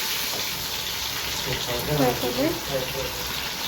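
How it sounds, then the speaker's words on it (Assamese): Oil frying in a home kitchen pan after heating: a steady broadband sizzle and hiss runs throughout at moderate level, with voices talking faintly underneath. "তেলটো গৰম হ'ল অকণমান ফ্ৰাই কৰি লওঁ"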